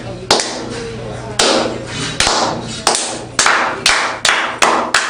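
Rhythmic clapping at a pro wrestling show: loud, sharp bursts of hands striking together, spaced irregularly at first and then quickening, over a steady roar of crowd noise.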